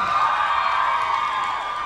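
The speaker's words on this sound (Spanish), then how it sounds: "gritos, chiflidos, aplausos para el número uno." A crowd at a queens expo pageant shouts, whistles and cheers for contestant number one, a dense, loud, sustained roar of voices filling the space.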